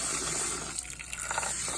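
Water runs and splashes while rice is washed, a short gushing pour that shifts into choppier sloshing toward the end.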